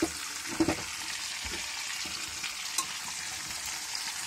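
Food sizzles and crackles steadily in a hot pan, a constant hissing fry with a few soft clinks, close and fairly quiet.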